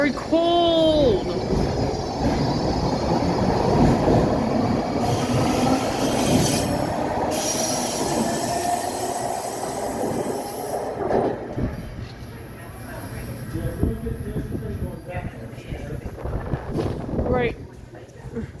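A Baltimore MTA Maryland Metro subway train at Milford Mill station squeals loudly on its wheels as it moves, with high metallic screeches over continuous rail rumble that eases toward the end.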